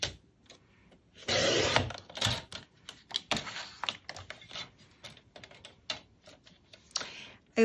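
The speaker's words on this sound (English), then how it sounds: "It's a Fiskars paper cutter, and I got it at Michael's." Paper is cut and handled on a Fiskars paper cutter, giving a quick sliding slice followed by a string of short clicks, taps and rustles, close and fairly soft, with no talking.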